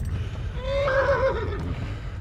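A horse neighs in the video game Kingdom Come, a clear rising-and-falling whinny lasting about a second over steady low background rumble, with faint hoof clatter.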